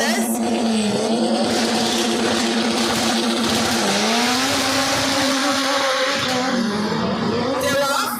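Drag racing cars in an 11-second class elimination race launch side by side and accelerate hard, with loud, continuous engine roar and rising revs through gear changes, heard close up under a commentator's voice.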